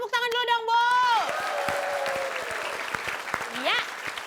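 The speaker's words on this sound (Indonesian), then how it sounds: "Tepuk tangan dulu dong, Bu." Studio audience clapping on an Indonesian TV variety show, a steady patter of many hands that runs the whole time beneath sweeping tonal sound effects and voices.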